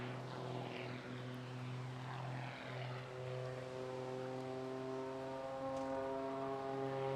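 A propeller-driven Muscle biplane flies at the Bournemouth Air Festival, its engine giving a steady buzzing drone with pitch shifting slightly as it passes, fairly faint and continuous.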